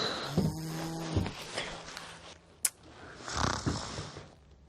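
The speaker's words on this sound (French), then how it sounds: "T'as ronflé là?" A person snores while asleep, a few rough breathy snores spread through a short stretch, fairly close and moderately loud, with a sharp click partway through.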